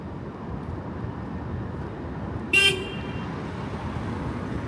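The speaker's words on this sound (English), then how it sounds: "What are you honking at me for, fool?" A single short car horn toot on the Las Vegas Strip, fairly near, over steady traffic rumble and street noise.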